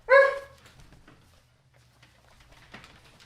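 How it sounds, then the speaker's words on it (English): A dog gives one loud, close bark at the start of the clip, then only a faint background murmur and a soft rustle follow. "my dog was barking there and sorting that out"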